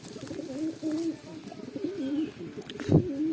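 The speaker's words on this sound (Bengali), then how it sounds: "আজকে পায়রা দেখো" Pigeons coo in low, rolling, repeated calls close by, several birds overlapping, with a brief flutter or knock near the end.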